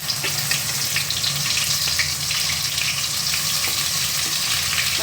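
Masala frying in plenty of oil for a prawn curry, a loud, dense, continuous sizzle and crackle heard close up, with no talking.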